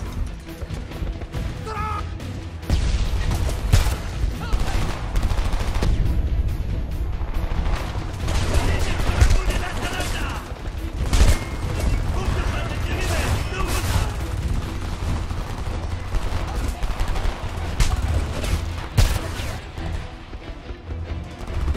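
Gunfire in the Homefront video game, a prolonged chaotic fusillade of shots and crashing impacts, loud and continuous with bursts of automatic fire and voices talking over the battle.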